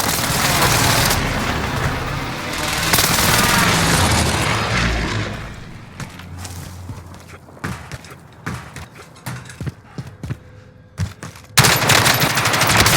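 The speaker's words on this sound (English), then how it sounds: "Allied precision airstrike incoming." An allied precision airstrike in a video game, loud, dense rumbling blasts and gunfire at first, easing into scattered sharp cracks and pops before another heavy burst near the end.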